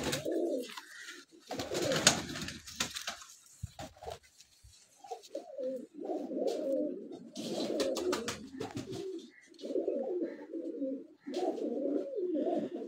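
Rooftop pigeons give repeated soft cooing calls in bursts separated by short pauses, near and fairly quiet, with a brief patch of rustling or handling noise early on.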